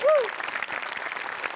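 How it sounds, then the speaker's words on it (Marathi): A studio audience bursts into applause, a dense patter of clapping that continues steadily, with a short vocal cry at the very start. "सचिन गोस्वामींसाठी एकदा जोरदार टाळ्या"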